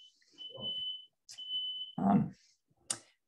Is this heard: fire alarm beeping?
yes